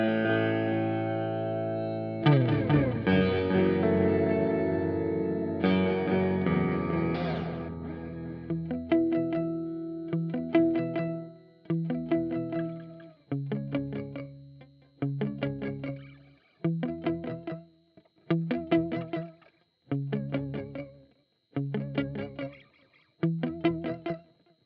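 Guitar through an MXR Joshua Ambient Echo pedal with modulation off: two or three held chords give way to a steady run of short plucked chords, each decaying quickly in a regular rhythm, clear and close with no voices.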